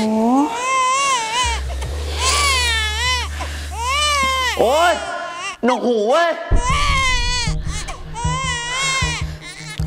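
Infant crying loudly and continuously in wavering, breathy wails, with adults talking over it and a steady low hum underneath.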